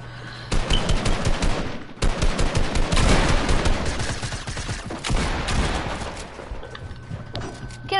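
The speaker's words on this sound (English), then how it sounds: "Why are you shooting at me?" Gunfire in a PS4 video game: dense, rapid automatic bursts, loud and close, running almost continuously with brief pauses between volleys.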